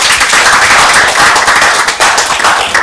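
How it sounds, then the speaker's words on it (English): An audience at a political address claps loudly and steadily, a dense close wash of many hands that dips briefly near the end before carrying on. "Clap for that."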